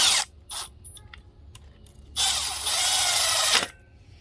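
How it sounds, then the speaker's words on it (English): Bolts on a Kawasaki KE175 motorcycle engine are wound in with a ratcheting hand tool, giving a few short clicking bursts followed by a longer, louder stretch of rapid ratchet whirring close up, with no talking. "I'm not torquing these, I'm just winding them in a little bit."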